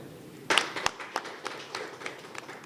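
Sparse, scattered clapping from a small audience at an award show, a handful of distinct claps ringing out and thinning quickly rather than building into full applause.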